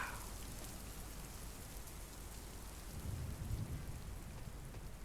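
Steady rain pours down in the Tonin demo video game, a dense hiss with a low rumble of thunder swelling midway, fairly quiet and without voices.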